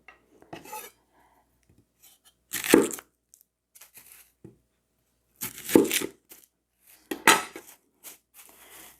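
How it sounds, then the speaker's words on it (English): A knife cuts up onions on a board for homemade salsa, giving three separate bursts of chopping strokes with quiet pauses between them and a few faint knocks and rustles. "we're going to cut up the onions that we're going to use first"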